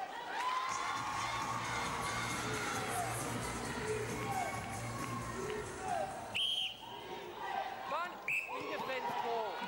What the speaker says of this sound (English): You can hear a few of those Jamaican supporters in the crowd.